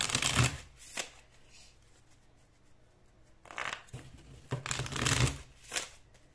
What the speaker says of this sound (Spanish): Vamos a comenzar a barajar nuestro mazo del tarot.